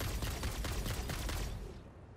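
Rapid gunfire fills the Satisfactory video game as creatures are shot down, a dense burst of shots that cuts off abruptly near the end.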